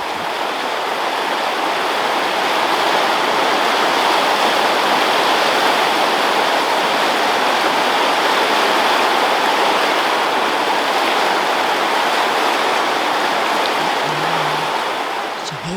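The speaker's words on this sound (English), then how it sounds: "It's one of my favourite rivers. It's so noisy and loud and beautiful." A loud, steady roar of rushing river water fills the whole stretch, constant and close with no pauses.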